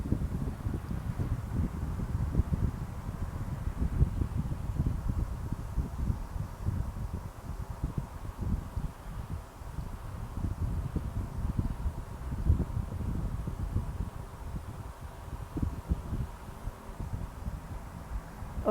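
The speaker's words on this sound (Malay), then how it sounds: "kita nak dengar balik semula bunyi angin yang kita dah record tadi" Wind recorded as a GarageBand sound effect: a steady low rumbling gust noise with buffeting and faint rustle, continuous and fairly even throughout, with no voices.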